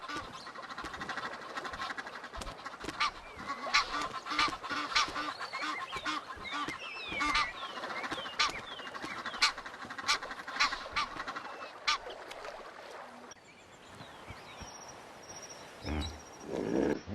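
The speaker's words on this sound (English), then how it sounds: "Egyptian geese fight fiercely over boundary disputes," Egyptian geese fighting over territory along a river in the Serengeti, with repeated harsh honks and squawks amid splashing and wing flurries, fairly faint and distant, no talk.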